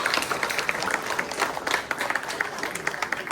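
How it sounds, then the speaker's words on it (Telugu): An audience applauds after a Kuchipudi dance performance at a Telugu language festival, dense steady clapping from a crowd in a hall, loud and continuous throughout. "మరొక్కసారి చప్పట్లు కొట్టచ్చు"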